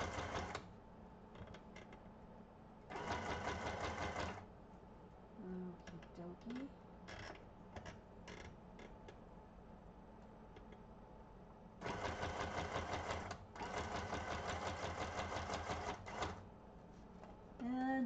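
A sewing machine stitching through vellum in rapid bursts, two longer loud runs of fast needle chatter separated by pauses with short clicks, and a person speaking quietly between runs.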